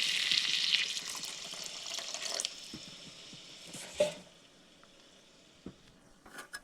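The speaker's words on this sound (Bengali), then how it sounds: "এখানে দিয়েছি পরিমাণ মতো জল" Water poured into a hot pan of green peas fried with spices for matar paneer: a loud hissing sizzle at first that settles into a quieter simmer, broken by a few sharp clinks of stirring.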